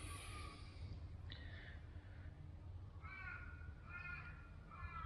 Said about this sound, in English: crows are yarping